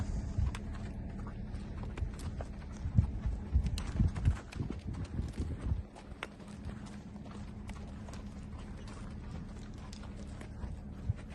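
Quarter horse foals and fillies walk over hard ground with hooves clip-clopping close by in an irregular patter. The hoofbeats are busiest in the first half and thin out to a few scattered steps later.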